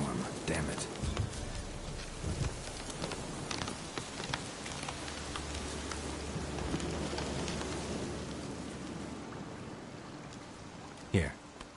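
Storm rain in The Witcher 3 hisses steadily across the scene, a dense, constant wash with scattered crackles and a low rumble, with speech over it and a sharp louder hit near the end.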